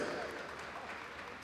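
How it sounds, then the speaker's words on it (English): Applause from the crowd at an evening swimming session of the 8th ASEAN Para Games in 2015, honouring the medalists; a steady, dense wash of clapping fills the whole short stretch. "Let's give another round of applause for the ASEAN Para Games medalists."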